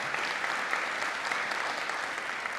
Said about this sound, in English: please join me in a warm round of applause for our experts